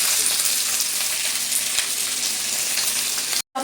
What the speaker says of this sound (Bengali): আলুটা আগে দিয়ে দিচ্ছি, পেঁয়াজটার সঙ্গে ভাজা হয়ে দেবো